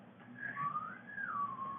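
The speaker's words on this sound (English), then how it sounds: "Hum and whistle at the same time." A person hums a low steady tone while whistling a gliding, wavering melody over it at the same time, the two sounds overlapping for a couple of seconds at moderate volume with no talk.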